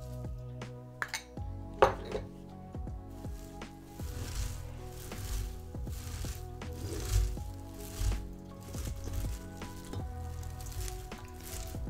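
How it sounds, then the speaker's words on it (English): Salt being mixed by hand into a large mass of shredded cabbage for sauerkraut, giving close, steady crunching and rustling with a few sharp clinks and crackles, and no voices. "it's like kind of hard to mix it in the beginning when there's so much volume"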